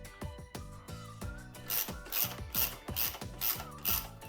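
A ratchet wrench clicks in quick repeated strokes while tightening case cover bolts on a Honda GX270 small engine, close and crisp with steady rhythmic ratcheting and no talk.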